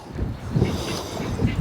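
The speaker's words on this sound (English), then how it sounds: "Sorry about the wind. It's going to be windy all day." Wind buffets the microphone in a low, rumbling gust throughout, with soft swells and no clear voices.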